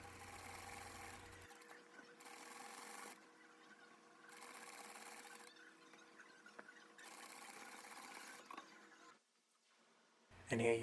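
A sewing machine top stitches a detailed 1/16-inch seam on the right side of a tuxedo garment's placket, running in several short, faint bursts of about a second each, with pauses between.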